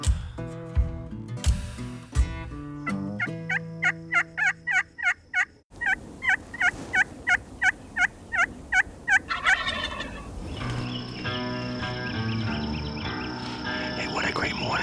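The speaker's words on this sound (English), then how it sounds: "I hear gobbling all over the place" Wild Osceola turkeys gobble repeatedly in the Florida woods, a long series of loud, rhythmic gobbles from several birds, some near and some farther off, layered over each other.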